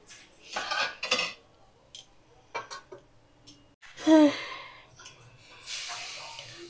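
Metal lid clatters onto a cooking pot of pulao, with a few close clanks and scrapes, then a soft rush of steam and further handling of cookware.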